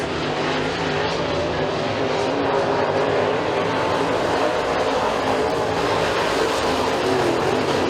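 Dirt-track race cars at McKean County Raceway roar in a dense, continuous drone of engines from the pack, loud and unbroken, without any clear separate passes.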